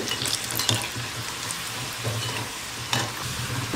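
Vadas deep-frying in hot oil for vadakari, a steady close sizzle with a few brief scraping clatters as the fritters are turned.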